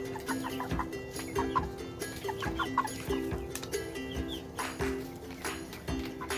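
Rhode Island Red chickens and roosters cluck and chatter nearby in a homestead yard, with soft overlapping calls and small scuffling and knocking sounds throughout.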